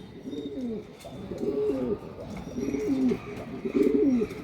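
Pigeons cooing at a pigeon sale, repeated throaty coo phrases rolling out in a steady rhythm, close and fairly loud, with faint background bustle and no talk.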